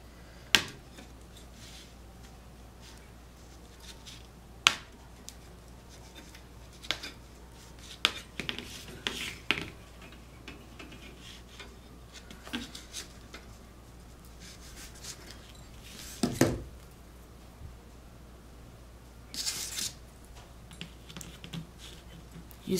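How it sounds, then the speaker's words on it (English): A wire cutter snips through a Dollar Tree wire wreath form, making sharp, isolated clicks and metallic snaps spaced irregularly over a quiet room background. "and I'm going to use my wire cutter"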